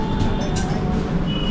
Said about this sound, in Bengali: একদম কাঁটায় 3:15 ট্রেন ছেড়ে দিয়েছে।